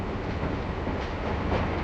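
A Mumbai local train rolls along the rails with a steady, dense rumble and rattle, constant and fairly close, with no voices over it.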